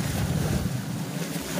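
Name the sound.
large waves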